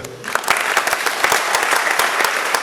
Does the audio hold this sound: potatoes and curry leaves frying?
no